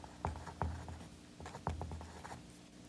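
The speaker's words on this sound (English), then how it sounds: "I'm just going to write right here, number line." Marker or chalk writing on a classroom board during a math lesson, a few short scratchy strokes and taps at an irregular pace, close and fairly quiet with no speech.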